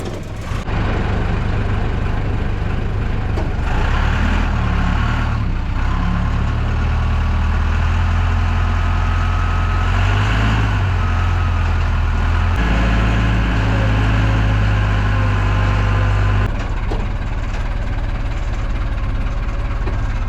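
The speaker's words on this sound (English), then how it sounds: "we're gonna reach in there with the monster truck. Probably won't hear me that well because it screams" A monster truck engine runs loud and steady at close range, a continuous deep mechanical roar with a slight knocking edge that holds level almost throughout, easing off briefly near the end.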